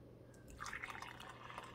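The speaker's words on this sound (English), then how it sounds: "Let's see how it pours." Hot coffee pouring from the carafe of a Keurig K-Duo Plus coffee maker, a soft, close trickle of liquid that rises briefly and then continues faintly, with no talk.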